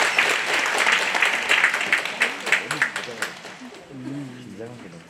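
Dense, loud applause from an audience at a citizens' briefing in Gwangmyeong on bringing in a science high school, welcoming a Hanyang University chemistry professor; the clapping thins out toward the end as a voice begins speaking.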